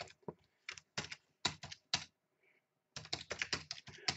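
Fingers type on a computer keyboard in quick, uneven bursts of close, crisp key clicks, with a short pause in the middle before a faster run of keystrokes.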